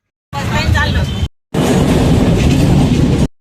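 A Mumbai local train rolls past loudly and close, a steady rushing rumble with rail clatter, cut by a brief gap before the noise resumes and holds, with a voice heard over it early on.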